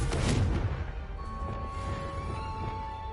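A Confringo blasting spell strikes pumpkins in the Hogwarts Legacy video game: a loud burst at the start, then a decaying rumble under a faint, lingering magical tone.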